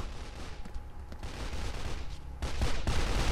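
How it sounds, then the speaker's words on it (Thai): Gunfire in the blocky first-person shooter Blockstorm: dense, continuous bursts of shots, loud and close, growing heavier toward the end with no talking. "เฮ้ยมีคนยิงไงข้างบน"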